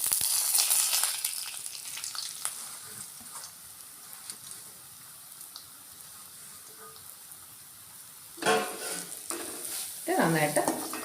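Grated coconut mixed with dried anchovy powder roasts in a pan for chammanthi, with a soft sizzle and repeated scraping stirs of a spoon, louder bursts of stirring near the end.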